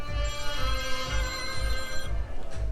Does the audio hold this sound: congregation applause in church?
no